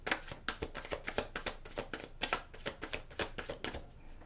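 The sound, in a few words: shuffling a deck of tarot cards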